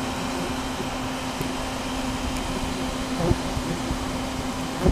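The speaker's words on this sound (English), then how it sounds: "Gotta run this vacuum." A constant, even mechanical whoosh of a vacuum sucking out a ground yellow jacket nest nearby, with a low steady hum and occasional faint knocks.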